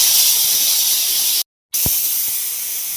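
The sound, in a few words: pressure cooker whistle releasing steam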